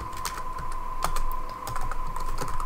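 Close, quick keystrokes clatter on a computer keyboard as a command is entered, in uneven bursts over a steady high electronic whine, with no voice present.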